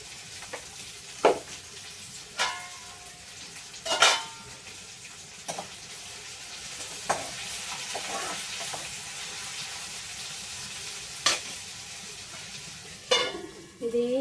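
Ivy gourd salted and frying in a pan, a soft steady sizzle broken by periodic scraping stir strokes and occasional spoon clinks against the pan.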